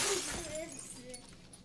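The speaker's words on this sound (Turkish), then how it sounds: "Camı kıran bizdik değil mi şimdi?" A glass window shatters in PUBG on the Miramar map, a bright crash at the start fading quickly, followed by voices talking over the tail.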